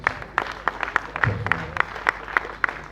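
Audience clapping after a somber Ghana Dance Ensemble performance at a remembrance evening, sparse and slow with a few distinct, evenly spaced claps standing out over a thin scatter of others.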